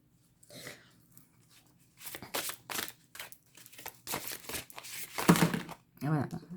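Large oracle cards shuffled by hand, giving papery crinkling riffles and soft slaps in irregular bursts, close and moderately loud, with a few short voice sounds in between.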